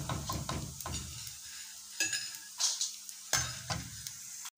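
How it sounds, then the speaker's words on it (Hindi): Raw papad frying in a pan of oil, a light crackling sizzle broken by several sharp clinks and scrapes of a utensil against the pan, close and fairly quiet. "ये देखिए हमने ये सेकंड इसमें पापड़ डाले हैं कच्चे, अब ये फ्राई हो रहे हैं।"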